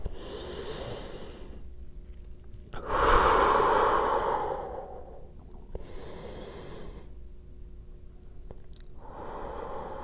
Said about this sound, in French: on va respirer dans notre dos